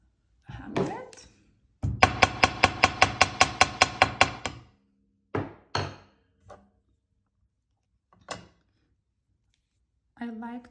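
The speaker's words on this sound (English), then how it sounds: "And definitely hammer it." A woven wire ring for jewelry is hammered with a rapid run of about fifteen sharp metallic strikes, followed by a few isolated knocks spaced apart, close and loud in a quiet room.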